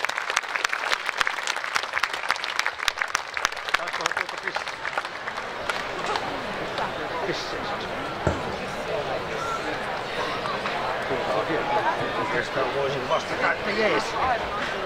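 A concert audience applauds, starting with sharp scattered claps that swell into dense sustained applause, with a voice speaking over it.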